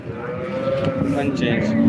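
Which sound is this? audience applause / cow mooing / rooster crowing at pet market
cow mooing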